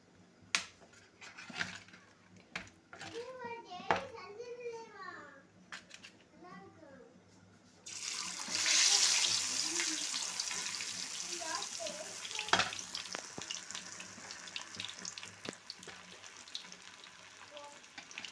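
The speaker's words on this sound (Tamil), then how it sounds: "நல்லா ரெண்டு ரெண்டு மீனாக எடுத்து பொறிச்சுக்கிறோங்க" Masala-coated tilapia fish frying in hot oil in a village kitchen, a steady loud sizzle that starts abruptly partway through and continues after a stretch of talk, with occasional clatter.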